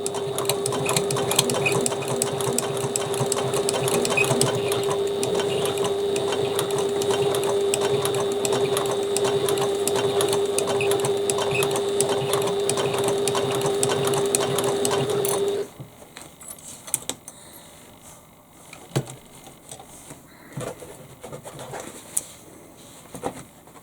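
Sewing machine stitching a bag lining, a steady fast mechanical whirring run for about fifteen seconds before stopping, followed by quieter handling clicks and rustles.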